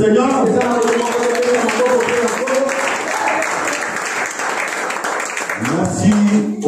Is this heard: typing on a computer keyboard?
no